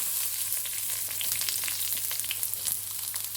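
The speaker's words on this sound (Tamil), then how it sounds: "நான் கட் பண்ணி வச்சுருந்த ஒரு வெங்காயத்தை சேர்த்துக்கிறேன்." Chopped onion sizzles in a hot pan with dal and curry leaves, giving a steady close crackle with small pops and no voices.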